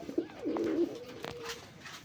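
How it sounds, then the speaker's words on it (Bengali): A pair of Rajgolla pigeons, a red cock and a red Indian hen, give a few loud, close coos in quick succession, the rolling calls rising and falling, then fading into quieter background chatter. "বন্ধুরা এখানে একজোড়া রাজগোল্লা কবুতর দেখেন"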